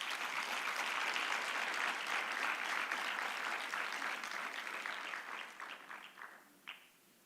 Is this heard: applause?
yes